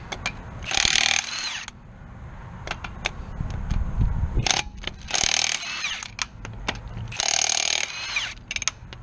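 Power impact tool removing lug nuts from a 1976 Corvette wheel: several loud, close bursts of rattling whirring, separated by clinks, ratcheting and handling noise in the pauses.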